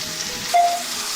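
Onions fry in a pan until brown for beef biryani, giving a steady close sizzle with a brief faint tone partway through.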